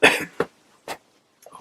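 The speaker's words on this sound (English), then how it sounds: "please excuse me, keep coughing." Several separate coughs from one person, a loud burst at the start followed by two shorter, quieter coughs with pauses between, ending in a faint throaty sound.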